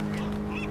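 A lone bird call in the video game Dear Esther, a short honking cry somewhat like a goose, heard faintly against quiet ambient background.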